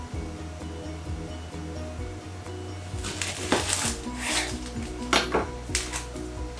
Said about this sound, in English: Next is we need some white onion, diced the same